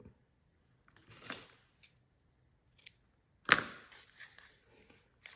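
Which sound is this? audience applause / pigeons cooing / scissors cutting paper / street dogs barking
scissors cutting paper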